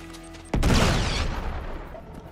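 Gunfire and a big explosion in the video game Uncharted 3, a sudden loud boom that follows faint rumbling and decays over about two seconds, with no voices.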